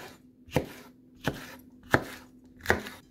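A knife cuts hot pepper into squares on a board, making four crisp, evenly spaced chops that sound close and distinct against a quiet background with no talk.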